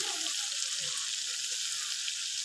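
Chicken pieces for karela chicken frying in spices in a pan, a steady dense sizzle running continuously and close, with a faint stir or two underneath and no talk.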